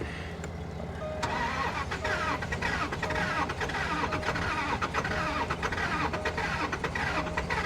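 A cheap, broken Range Rover running on premium petrol cranks and starts, then settles into a rough, steady idle close by, with a faint rattling texture throughout and no talk.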